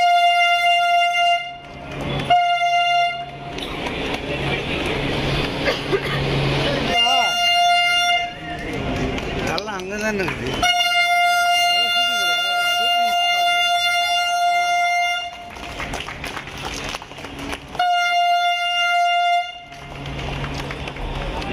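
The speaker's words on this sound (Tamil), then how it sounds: "பூந்தமல்லியில் இருந்து போரூர் வரையிலான இரண்டாம் கட்ட ஆளில்லா மெட்ரோ ரயில் சோதனை ஓட்டம் வெற்றியடைந்ததாக சென்னை மெட்ரோ நிர்வாகம் தெரிவித்துள்ளது." Chennai's driverless metro train on its Poonamallee to Porur trial run sounds repeated steady horn toots over a rumbling running train, with people talking throughout.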